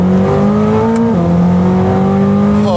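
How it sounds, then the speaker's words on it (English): A Corvette C8 ZR1 powers out of a track corner in second gear, its engine note climbing loudly and steadily, briefly dipping mid-pull before rising again, close and continuous with faint tire noise. "Watch the second gear pull out of this corner."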